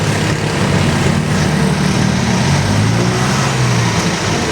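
A car's engine runs steadily after repair work, with its cooling fan spinning beside the condenser. The result is a constant, close, low droning hum with an even whirring layer on top and no voices.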